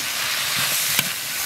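Donkey liver stir-fried in a hot wok with green and red chilies and onion strips gives off a steady, hissing sizzle throughout, with a couple of brief bumps and clatters from the pan partway through.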